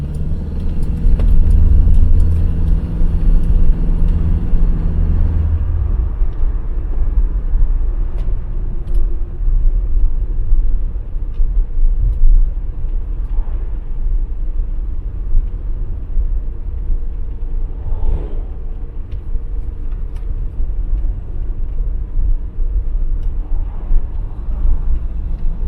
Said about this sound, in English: You'll hear just how beautiful the car is to drive, of course.